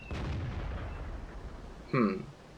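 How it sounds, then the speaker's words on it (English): Artillery fire in the World of Tanks video game lands as one sharp, booming shot near the end, following a dull rumbling stretch of battle noise. "And there's the artillery."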